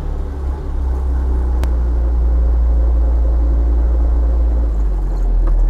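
Steady, loud interior rumble of a 1967 Mark II Austin Mini Cooper S with hydrolastic suspension on the move, its engine drone and road noise continuous and close throughout.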